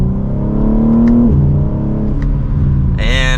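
A 2024 BMW M3 Competition accelerates hard in second gear, its engine note climbing loud and close from inside the cabin, then dropping on a shift before climbing again, and a brief high-pitched whine enters at the end.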